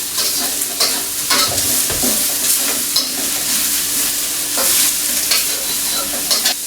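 Cabbage and chopped green chili stir-fried in a wok for fried rice, a loud steady sizzle with rhythmic scraping and tossing strokes throughout, no voices.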